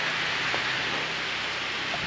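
Steady rain hisses evenly on surfaces nearby, a constant wash of noise with no break and no voices.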